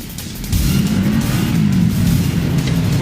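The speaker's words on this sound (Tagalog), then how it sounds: "Bernadette, dito sa bahagi ng EDSA northbound sa may Ortigas ay kapansin-pansing mabagal ang daloy ng mga sasakyan" Road traffic on EDSA northbound near Ortigas in Metro Manila rumbles as a continuous, loud engine roar, with vehicles passing close by and swelling after the first half second.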